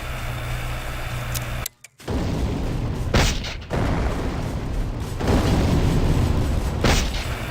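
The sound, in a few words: mortar being fired in the Empires mod video game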